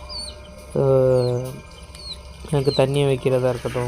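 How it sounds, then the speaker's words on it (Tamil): A backyard pet hen kept at home gives harmonic clucking calls in two bursts, close and fairly loud, while a person speaks nearby between and over them. "ஸோ இது வந்து நான் வளர்க்குற கோழி தான்."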